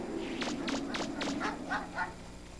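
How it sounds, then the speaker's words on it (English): Cartoonish dog barking in the video game Mega Man Legends: a run of about seven quick yips and barks over roughly two seconds, moderately loud over steady game background music. "Leave me alone, puppy dog."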